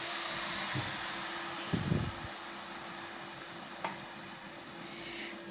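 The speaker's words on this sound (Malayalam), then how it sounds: "നന്നായിട്ടൊന്ന് മിക്സ് ചെയ്ത് ഫുൾ ഫ്ലെയിമിൽ തന്നെയാണ് വെച്ചേക്കണത്." Carrot halwa with full-fat milk is cooking in a pan over a full flame, a faint steady hiss and bubbling with a few soft spoon scrapes of stirring, no talk.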